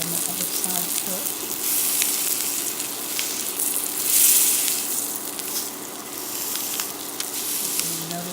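Blackened Atlantic salmon fillet with spices frying in a pan, a steady close sizzle that swells into a brief louder hiss midway, with a few faint clinks.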